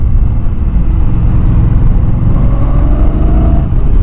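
A 2019 Indian Scout Bobber's big V-twin engine drones loud and steady while riding, with a deep rumble and wind rush throughout and no voices.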